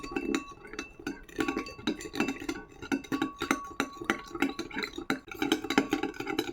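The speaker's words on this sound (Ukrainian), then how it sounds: "Тепер перемішаємо дуже добре до повного розчинення цукру." A spoon stirs sugar into soap bubble solution in a dish, giving a steady run of close, light clinks and scrapes against the dish with no talking.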